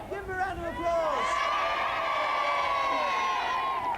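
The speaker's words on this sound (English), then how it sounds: "Give him a round of applause." A television studio audience cheers and whoops during a Christmas children's show, a sustained wash of crowd noise with high shouts and scattered clapping, steady and fairly loud for several seconds.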